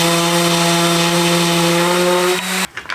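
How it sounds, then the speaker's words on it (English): A power sander runs steadily with a strong whine while smoothing the corner of a plywood drawer box, then cuts off abruptly near the end, leaving a few quieter handling noises. "It's flat on the bottom, so I'm just gonna take it down with the sander just a little bit."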